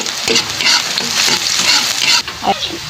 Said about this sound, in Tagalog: medyo tosta na nga yung ating sibuyas